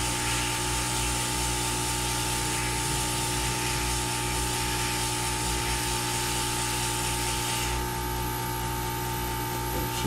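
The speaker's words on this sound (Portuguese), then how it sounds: "E desligar aqui o soprador térmico." A hot air rework station blows steadily while desoldering a regulator from an Xbox 360 circuit board, a constant loud hissing rush with a faint electrical hum underneath.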